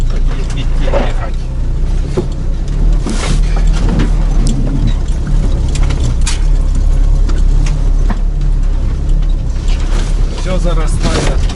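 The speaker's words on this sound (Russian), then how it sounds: "УАЗик вообще очень жесткий, а когда ты загружаешь, когда тонну загружаешь, вообще кайфово идти ехать." UAZ off-road vehicle driving loaded with about a tonne of cargo: loud, constant engine and drivetrain drone with rattling, clanking body and mechanism noises throughout, heard from inside.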